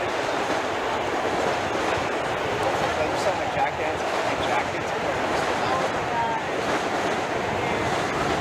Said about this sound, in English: Busy afternoon or early evening here as the trains go by in Massapequa